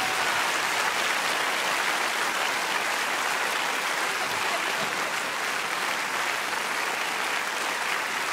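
Steady, dense applause from a TV studio audience at a Swiss folk music show, following a performance with Bernese Örgeli accordion players, sustained and even throughout.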